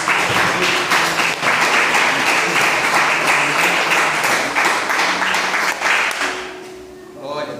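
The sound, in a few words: congregation applause in church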